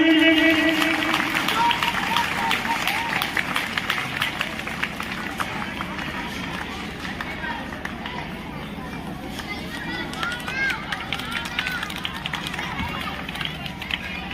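A live audience claps steadily at a local Rajasthan community event, a broad, continuous wash of applause with crowd murmur, starting just after a brief spoken line.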